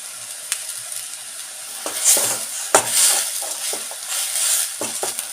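Onions and broken green chillies sizzle steadily in a hot pan for a fish kulambu, with occasional scraping stir strokes and clinks over a continuous frying hiss.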